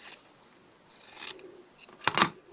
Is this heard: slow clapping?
no